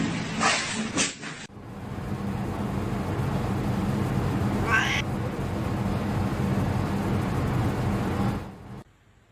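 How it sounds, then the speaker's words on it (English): A pet cat lets out a short meow near the start, followed by a long stretch of steady indoor rumble, with a brief squeaky vocal sound midway. "My girlfriend's cat's name is Bean"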